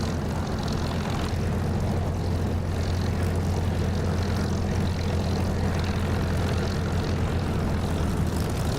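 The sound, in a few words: aircraft engine throttling up for takeoff, DCS flight simulator video game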